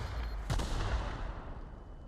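A grenade or mine detonates in The Outer Worlds game, a loud close boom with a sharp hit followed by a dense rumbling roar that slowly fades.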